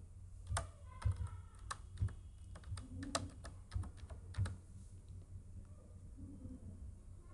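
Someone types a password on a computer keyboard, producing an irregular run of quiet, close key clicks that fade out near the end over faint room hum.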